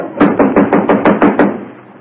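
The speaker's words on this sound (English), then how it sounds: "Who's that knocking on the door, Mary?" A door knock performed as a sound effect for a 1936 radio comedy show: about eight evenly spaced, fairly loud raps in a quick steady rhythm, heard alone with no talk over them.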